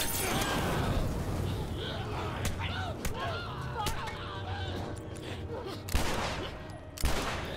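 Gunfire in the video game The Last of Us, a rapid fusillade of sharp shots under constant game noise, with a few louder isolated cracks later and a person talking over it.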